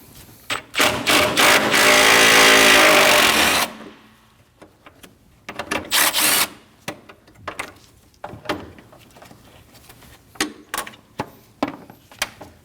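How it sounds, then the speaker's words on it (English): Ratcheting 10mm socket wrench backing out 10mm bolts on a 2011-2016 Kia Optima 2.4L during AC condenser removal, heard as a sustained rapid ratchet burst followed by scattered clicks and clanks of tools and bolts close by. "With the fan out of the way, we're gonna remove these two 10mm bolts. Using a 10mm socket,"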